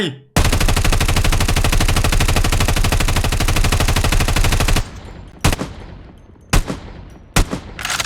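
Rapid, continuous machine gun fire from Call of Duty Mobile (MK9 rifle) for several seconds, then a few sharp single shots with pauses between them.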